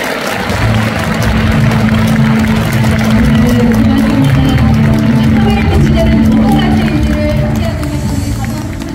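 Sustained, dense applause from a ceremony audience fills a hall at a steady, loud level for the whole stretch, with a faint crowd murmur mixed in.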